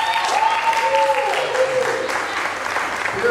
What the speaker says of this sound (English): Can I get maybe 4 hand claps this time?